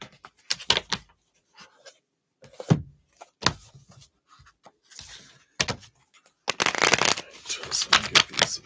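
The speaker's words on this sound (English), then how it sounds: "So I'll give these a shuffle here." A deck of tarot cards is shuffled during a live reading in several quick, crisp riffling bursts, ending in a longer, louder flurry; faint handling knocks come between the shuffles.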